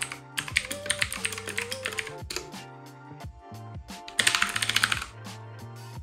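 Keys clacking on a T-Dagger Naxos budget mechanical keyboard with lighting, steady close typing over a soft hum of background music, with a louder burst of rapid keystrokes near the end.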